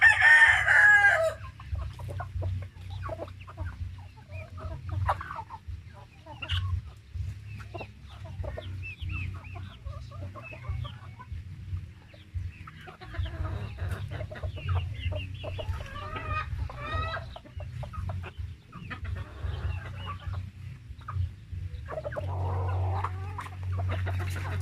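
Rhode Island Red hybrid chickens on a free-range farm cluck and chatter continuously, with a rooster crow at the start and scattered calls throughout, over a steady low background hum.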